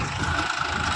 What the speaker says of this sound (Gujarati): તો ગાઈસ જો યાર ટ્રેક્ટર હવે આવી ગયું છે.